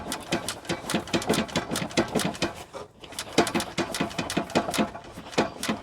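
A rapid, rhythmic mechanical ticking and clattering from a knocking Fiat 126p engine running, steady with a brief dip midway.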